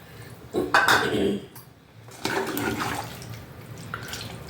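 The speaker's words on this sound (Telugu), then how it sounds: "3/4 గ్లాస్ నీళ్ళు పోస్తానండి." Three-quarters of a glass of water is poured into a pot of cooking chicken in two short splashy bursts, close by, with faint kitchen clatter between them.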